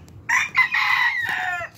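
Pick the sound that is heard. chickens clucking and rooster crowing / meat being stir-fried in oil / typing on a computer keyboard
chickens clucking and rooster crowing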